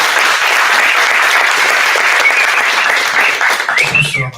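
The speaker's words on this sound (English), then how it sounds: "Another big round of applause" A big round of applause at a startup demo night, loud dense clapping close up that holds steady before thinning out and fading at the end as a voice begins.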